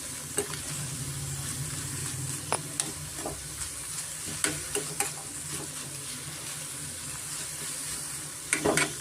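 Red poha chitranna seasoned with salt being stirred in a pan: close, continuous scraping and sizzling with sharp spoon clinks against the metal at irregular moments, no voices.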